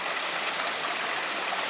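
Water flowing out from inside a hill in a cave area near Shangri-La Arch at Carter Caves, Kentucky, makes a steady, loud, broadband rushing and splashing that holds constant throughout.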